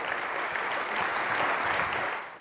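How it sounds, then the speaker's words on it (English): A summit audience breaks into a full round of applause for a syndicate chairman at a CEO Institute event, dense steady clapping that holds for about two seconds before quickly tailing off. "Give Tasso a big round of applause."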